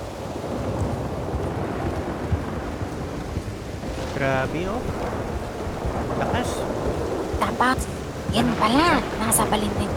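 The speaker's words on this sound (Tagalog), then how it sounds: "Sobrang bagyo naman." Heavy storm with thunder and steady rain forms a loud, dense roar throughout, with deep rumbling underneath, while several people talk and call out over it.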